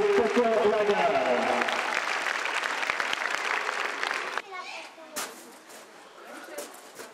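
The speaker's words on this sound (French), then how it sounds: "Vous pouvez applaudir Étienne et Pia au coton lagarde." An audience at a birds of prey demonstration in Villers-la-Ville claps in a sustained, dense burst of applause that thins out to scattered claps near the end.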